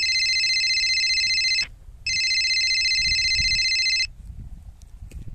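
A mobile phone ringtone rings loudly in two long, steady bursts separated by a brief gap, followed by quiet room noise, with no talking.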